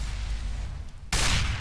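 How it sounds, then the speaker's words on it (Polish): A single gunshot in a multiplayer video game match: a loud, sudden blast that cuts in after a second of low background noise and rings out to the end. "Jaki szybki strzał!"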